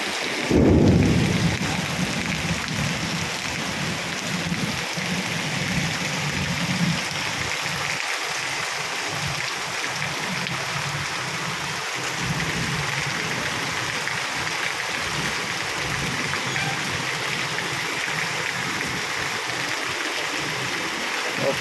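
Heavy monsoon rain pours steadily with a constant dense hiss, water rushing through the streets and lanes, and a deep rumble of thunder near the start, with no voices throughout.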